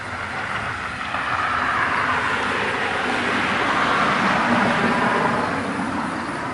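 Steady rush hour road traffic roars continuously, a broad wash of passing vehicles and engine noise swelling slightly, with no talking.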